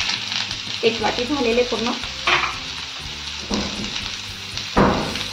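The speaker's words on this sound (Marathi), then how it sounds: "थोडंसं तेल टाकते, मला कांदा परतायचा आहे" Sliced onions, four medium ones, frying in a little oil in a pan for a spicy Nashik-style misal, with sizzling and stirring scrapes; someone speaks briefly over it.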